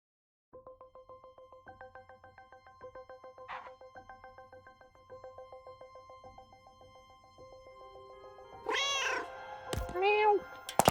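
Cat meows from the video game Schrodinger's Cat Burglar, several short, evenly spaced tonal meows over a faint rhythmic backing track, then louder, wavering meows near the end, with a voice briefly present.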